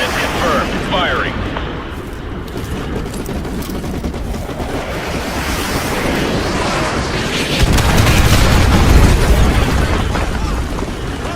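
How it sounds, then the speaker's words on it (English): In Call of Duty Modern Warfare Remastered, artillery strikes hit enemy vehicles with heavy, rumbling explosions, and the blasts grow louder and deeper toward the end as someone talks over them. "Ramirez, use your laser designator to call in artillery on those vehicles."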